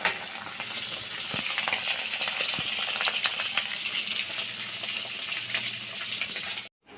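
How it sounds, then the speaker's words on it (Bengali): Fish frying in a pan of hot oil gives a steady, close sizzle with small crackles and pops. It runs alone with no talking and stops abruptly at the very end. "তো চলো মাছটা ভেজে নিই রান্নাটাও করে নিই"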